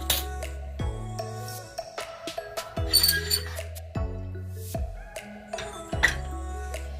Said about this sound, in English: 1 teaspoon of starch. And I'm going to give it a stir.